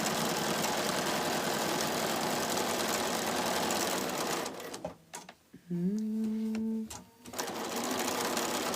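Sewing machine stitching a pocket for a tote bag, a loud steady mechanical whirr that stops briefly with a short high tone and then resumes.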